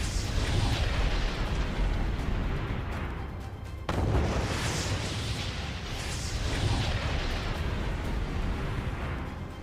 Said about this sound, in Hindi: ईरान ने भी ताबड़तोड़ जवाबी हमलों से तेल अवीव को दहला दिया